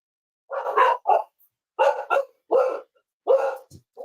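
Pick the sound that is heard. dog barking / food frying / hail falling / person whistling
dog barking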